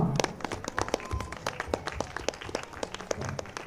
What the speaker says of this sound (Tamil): நம்முடைய நன்றியும் பாராட்டுகளையும் கைத்தட்டி அவங்களுக்கு தெரிவிச்சுடுவோமா